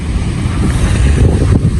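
Storm wind blows during a snowy Russian winter, a loud, low, blustery roar buffeting the microphone without pause.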